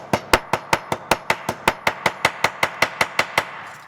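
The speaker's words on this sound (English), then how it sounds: "I can take the domed end of the chasing hammer and just" The domed end of a chasing hammer strikes metal about eighteen times in an even, brisk rhythm, each blow a sharp close ringing tap that fades quickly, flattening a flared piece for a bracelet blank.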